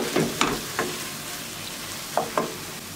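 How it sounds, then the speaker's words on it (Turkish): Bulgur toasting with crushed tomatoes in a pan, giving a soft, low sizzle broken by a few sharp scrapes and taps of a spoon stirring, with no voices. "Domateslerle birlikte bulguru da bir süre kavuracağım."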